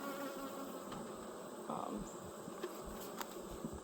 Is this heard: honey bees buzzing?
yes